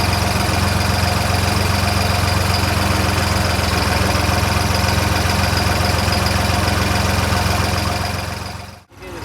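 A steady, loud tractor engine idling close by with a constant low rumble and vibration, cutting out briefly near the end.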